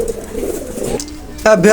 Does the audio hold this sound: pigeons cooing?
yes